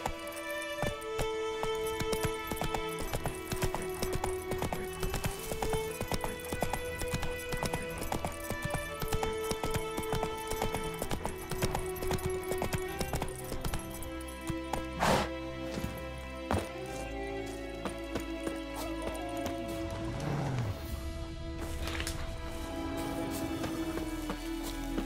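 Roach, a horse in The Witcher 3, trots with a steady run of crisp hoof clip-clops, accompanied by creaking tack and ambient game music, and a brief whinny near the end.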